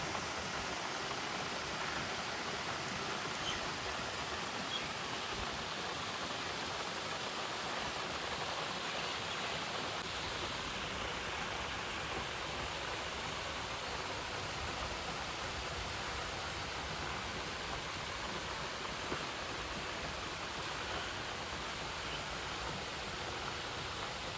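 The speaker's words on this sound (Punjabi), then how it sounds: "ਬਾਲੀ ਤੇਜ਼ ਮੀਂਹ ਆ ਗਿਆ" Heavy rain pours down at a dairy farm as a steady, even hiss that holds unbroken throughout, fairly close and with no voices.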